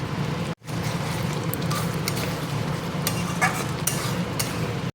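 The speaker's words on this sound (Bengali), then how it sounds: "তো এটা আমি এখন কষাবো।" Spice paste for a prawn malai curry is stirred and sautéed in a pan, a continuous scraping and sizzling texture with soft clinks of the spoon, steady and close, broken by one brief dropout near the start.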